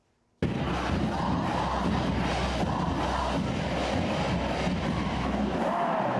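A large crowd of university students roars and cheers at a Troy University pep rally, a loud, sustained wall of shouting and whooping that starts abruptly and holds steady throughout.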